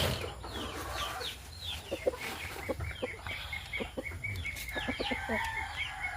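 A fighting rooster kept as a pet clucks repeatedly in short bursts and crows, fairly close, over steady farmyard background noise, with other birds chirping faintly.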